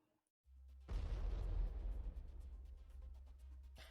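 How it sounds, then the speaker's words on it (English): Video game explosions: a sudden heavy boom with deep low rumble that holds loud, then rolls off into a long crackling decay, with a few faint pops near the end. "Oh boy, explosions!"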